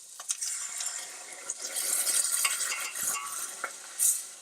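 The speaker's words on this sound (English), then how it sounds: "Now pour in your coconut milk." Coconut milk hits a pan of frying chickpeas with garlic and ginger, giving a soft sizzle, light stirring scrapes and a few utensil clinks, close and quiet with no talking.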